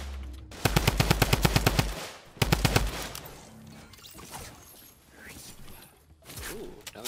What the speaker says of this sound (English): Ooh, another drum gun?